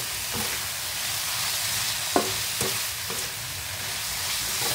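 Cooked bitter gourd sizzling steadily in a frying pan, with a few sharp scrapes and clacks of a utensil stirring it partway through, close and fairly quiet.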